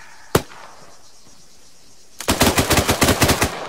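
ArmA 3 video game machine gun fire: one sharp shot, a quiet gap, then a loud rapid burst of about a dozen rounds in quick succession, close and alone.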